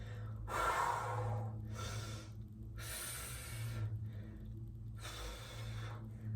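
Forceful exhaled breaths during a chest squeeze push exercise in a workout circuit, four long whooshing exhales at a steady rhythm, close and fairly loud over a low background hum.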